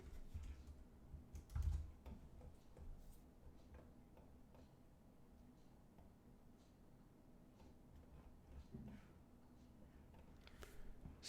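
Rapid, steady typing on a computer keyboard, a dense run of quick light clicks and taps throughout, fairly close, with no talking.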